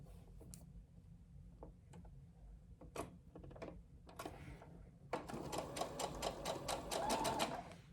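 A domestic sewing machine runs gathering stitches, with scattered clicks and handling noises first, then a close, steady rhythmic stitching run.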